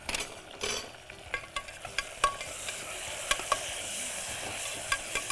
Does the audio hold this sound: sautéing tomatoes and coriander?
yes